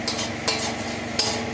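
Garlic being stir-fried in oil for prawn malai curry, with a steady close sizzle and a few sharp spatula scrapes against the pan.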